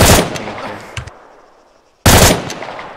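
Machine gun fire in ArmA 3, two loud close bursts of rapid shots separated by a second of fading echo, sharp and punchy.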